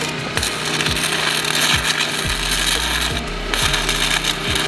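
Saw cutting metal cross beams for a tiny house build, with harsh rasping strokes repeating in a steady rhythm, loud and close, with no talk.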